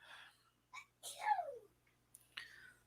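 A single quiet sneeze, with a short sharp inhale before it and a faint breathy sound after, close and isolated.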